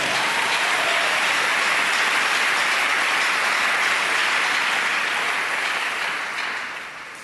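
A church congregation bursts into loud, sustained applause that fills the room for several seconds, then fades toward the end.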